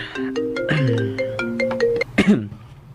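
A mobile phone ringtone plays an incoming call in a radio drama, a bright melodic tune of sustained electronic tones lasting a few seconds, close and clear, ending with a brief vocal sound.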